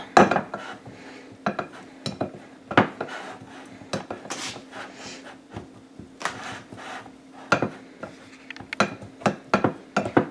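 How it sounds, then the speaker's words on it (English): A metal pastry blender scrapes and clinks repeatedly against a bowl while cutting butter into dry ingredients, irregular chopping and rasping strokes up close, with a faint steady hum underneath. "I just want to get my butter cut into small chunks, mixed into my dry ingredients."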